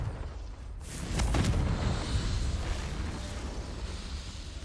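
A fire spell explosion in Hogwarts Legacy, a soft boom that swells into a sustained rumbling, crackling blast, lingering at moderate loudness with a low roar and no talk.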